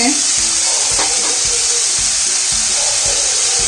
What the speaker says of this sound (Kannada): ಈಗ ಈ ತರಕಾರಿಗಳನ್ನೆಲ್ಲ ಚೆನ್ನಾಗಿ ಫ್ರೈ ಮಾಡಬೇಕು ಎಣ್ಣೆನಲ್ಲೇ